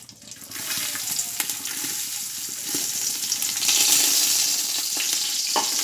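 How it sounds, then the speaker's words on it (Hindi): Dried coconut roasting in hot ghee in a cooking pot on a gas stove, a steady close sizzle and hiss that swells slightly louder midway, with faint scrapes and no voices. "खोबरा भून कर लूँगी।"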